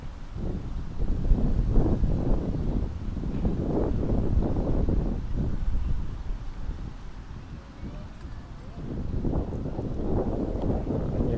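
Wind blowing across the water during float-pole fishing, a continuous low buffeting rumble with gentle gusts rising and falling throughout.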